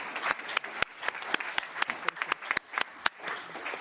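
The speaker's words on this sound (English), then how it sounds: "So a big round of applause for our speakers." Audience applause after speakers at a public talk on transatlantic relations, steady clapping from a crowd with scattered sharper claps standing out, moderately loud and continuous without talk.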